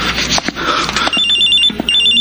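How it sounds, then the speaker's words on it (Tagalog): A cellphone rings with a loud, repeating electronic trill over a dense, noisy background. "Nagri-ring ang cellphone ni Mamasita."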